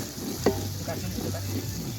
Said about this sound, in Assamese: মাংসখিনি দি লৰাই থাকিব লাগিব